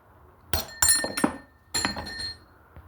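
Three sharp metallic hammer taps on a steel drift ring out, two in quick succession and then another after a short pause, close and bright with brief ringing decay.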